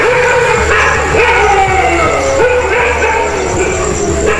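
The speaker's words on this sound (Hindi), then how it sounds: "कुत्ते शेरों को देखते ही भौंक भौंक कर पूरे गांव को खबरदार कर सकते हैं।" Village dogs near Gir Forest in India bark and howl at big cats prowling nearby. Loud, overlapping barks and yelps continue throughout against a constant noisy background.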